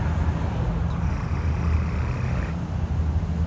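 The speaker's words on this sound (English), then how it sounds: "I have a fucking massive engine, a turbo diesel engine, and my tailpipe sounds like this." Turbo diesel van exhaust at the tailpipe, running with a soft, steady, low rumble that stays fairly quiet and even.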